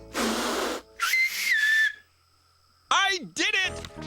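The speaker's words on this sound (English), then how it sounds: "I did it! I did it! I can whistle!" A cartoon character whistling in short bursts, a few breathy hissy attempts followed by a clear rising tone, then after a pause a wavering, warbling whistle, with brief speech-like sounds around it.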